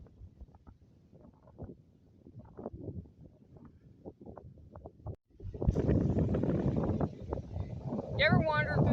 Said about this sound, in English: Whew, this wind is coming out.